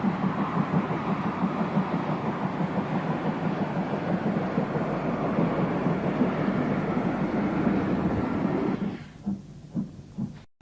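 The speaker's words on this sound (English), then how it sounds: "These two were at Shrewsbury, preparing to take out a special train." A pair of British steam locomotives at Shrewsbury, readied to haul a special train, give a steady rhythmic chuffing and rumble close by that runs continuously, then breaks into a few separated beats before cutting off.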